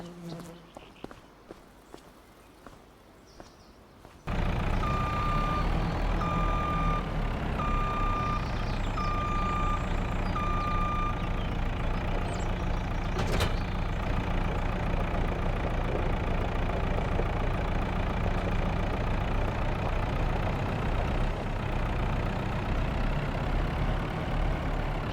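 A JCB machine in Farming Simulator 25 starts up, then its engine drones loudly and steadily while a reversing beep sounds at a regular pace, close and continuous after a few quieter opening seconds.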